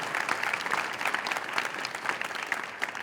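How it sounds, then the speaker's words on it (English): Audience applause at a nursing class pinning ceremony, a steady dense clapping from a large crowd that holds at an even level throughout, with no pauses. "One more round of applause for them"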